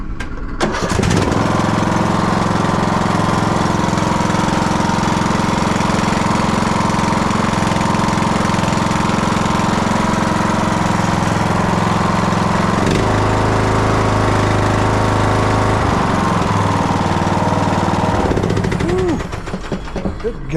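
A Craftsman LT3000 lawn tractor engine, its oil contaminated with fuel, runs indoors with exhaust fans going. It makes a loud, steady, rough drone for about twenty seconds, with a slight shift in tone partway through, before cutting off.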